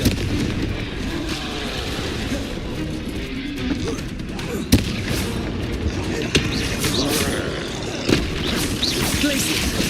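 Confringo blasting spells burst in repeated explosions during Hogwarts Legacy combat, a dense, continuous barrage of booms and crashes with sharp impacts standing out, mixed with game sounds throughout.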